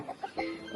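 Several short, close clucks come from chickens kept in an enclosed coop, a few quick bursts followed by a slightly longer call at moderate volume with no voices.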